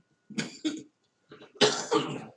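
Four sharp coughs up close, two quick ones, a pause, then two heavier, harsher ones, with silence between.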